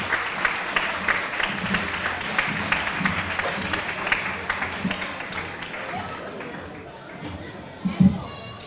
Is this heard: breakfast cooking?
no